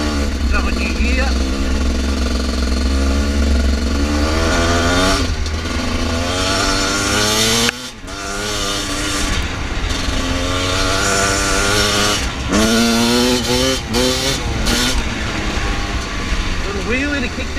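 A dirt bike engine revs hard in rising and falling bursts during a wheelie, loud and close, with a brief drop mid-run, while a voice talks over it.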